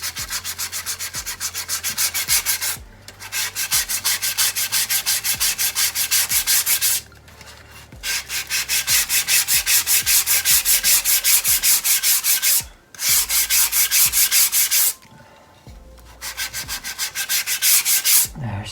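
Body filler is hand-sanded down to the metal on a Honda cafe racer seat pod, giving long runs of rapid back-and-forth scratchy rubbing, close and loud, broken by several short pauses.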